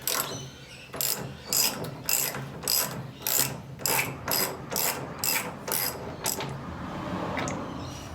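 A ratchet wrench turns out a bolt, giving bursts of rapid pawl clicking in about a dozen regular strokes with brief pauses between them, close and clear.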